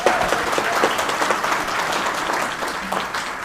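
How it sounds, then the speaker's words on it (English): Audience at a TPSA panel presentation breaks into a steady round of applause, dense overlapping clapping that stays loud and even throughout with a faint crowd murmur. "Let's give them a round of applause."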